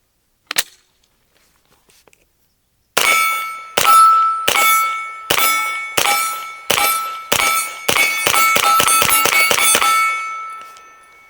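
Suppressed gunshots from a Geforce Blade pistol-caliber carbine firing 150-grain Federal Syntech through an Anechoic 35 silencer: one early shot, then about a dozen sharp, metallic cracks, spaced at first and then in quick succession, close and loud.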